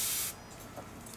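A short, close burst of Evian facial water spray misting for about a third of a second, a bright hiss that stops abruptly.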